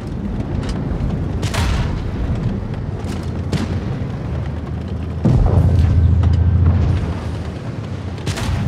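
Tank cannon shots and hits from the World of Tanks Blitz video game, with several sharp booms spread over a rumbling battle ambience and a brief sustained hit effect midway.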